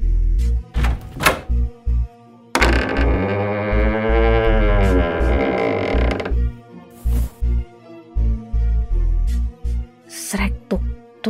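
A door handle rattling in a horror podcast sound effect: a run of short, loud clunks and thumps. A sustained, wavering drone takes over in the middle before the knocking resumes.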